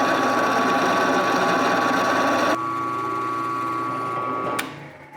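A drill bores 3/8 inch holes into melamine board, a steady high whine running continuously, dropping in pitch partway through and fading as the bit stops.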